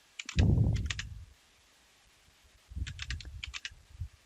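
Code is typed on a computer keyboard in two separate flurries of rapid key clicks, heard close up with a brief silent gap between them.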